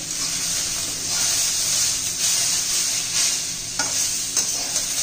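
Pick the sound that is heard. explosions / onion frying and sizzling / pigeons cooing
onion frying and sizzling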